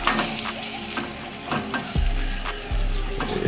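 Sausage sizzling and frying on an Old Country BBQ Pits Sabine grill, a steady close crackle with a few sharp scraping stirs and flips.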